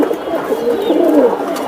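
Silver, army and other fancy pigeons coo close by, one loud, throaty rolling coo that wavers in pitch, with no voices.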